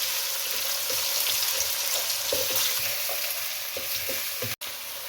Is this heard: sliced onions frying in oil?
yes